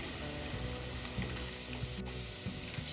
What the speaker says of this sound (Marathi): आता यामध्ये लगेच कढीपत्ता ऍड करून घ्यायचा म्हणजे सर्व ऑइलमध्ये छान कढीपत्त्याचा फ्लेवर येईल